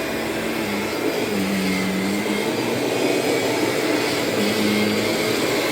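A Kirby G4, Sentria, Heritage 1 or Ultimate G Diamond Edition upright vacuum cleaner running steadily: a loud, constant whirring roar with a faint motor whine that rises and falls slightly, close by and with no talking.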